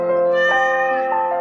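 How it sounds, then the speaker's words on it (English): A cat gives a single long, loud meow up close, drawn out over about a second and a half with no other sounds around it. "Meow, meow, meow, meow."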